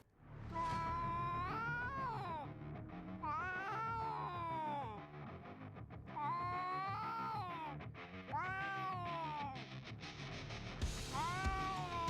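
Two street cats fight, trading long rising and falling yowls and caterwauls in drawn-out wails that repeat one after another, loud and close over a steady background hum.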